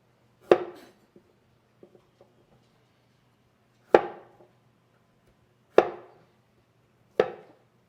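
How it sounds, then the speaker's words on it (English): A knife strikes ginger against a cutting board four times in a slow, uneven rhythm, each a sharp close knock with a short decay and long quiet gaps between. "Just going to peel it a little bit. You could do it with a spoon, however you like. I like using a knife."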